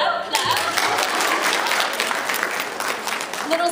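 An audience at a Hetalia fan panel breaks into applause, a dense, sustained wash of clapping from a crowd that carries on for several seconds without a break.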